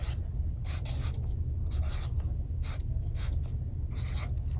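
Handwriting on paper during a phonics lesson, several short scratchy pen strokes in bursts with pauses between them, close and fairly quiet over a low steady background hum, no voices.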